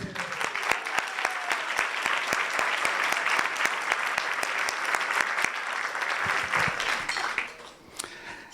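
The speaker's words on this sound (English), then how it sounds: "I want to have a special applause for you, Maggie," A room full of people applauding an award winner, steady dense clapping that runs throughout and tapers slightly near the end.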